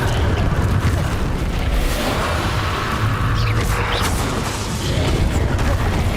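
Loud, dense burst of Bombarda explosion spells in Hogwarts Legacy, booming blasts and whooshing debris layered with fiery casting effects in a continuous chaotic barrage.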